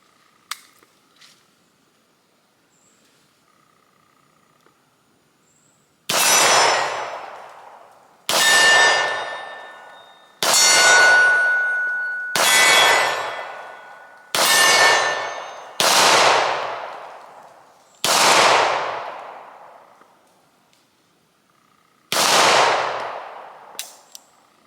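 Nine sharp, loud pistol shots from a WWII German P38 firing 115-grain 9mm ammunition, spaced one to two seconds apart in a steady string, then a short pause before a final shot, each ringing off with a brief decay.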